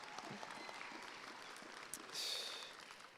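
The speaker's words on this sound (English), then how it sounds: "Clap for yourselves." Graduates at a high school commencement clapping for themselves, a faint, diffuse crowd applause throughout with a brief shrill burst partway through.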